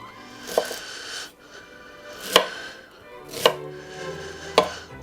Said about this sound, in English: And just rough chop it up